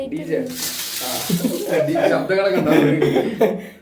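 Water gushing from a house pipe tap, a hissing flow with a whistling, musical warble, under a person talking and chuckling nearby.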